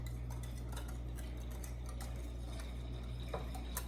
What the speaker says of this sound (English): Give that another whisk.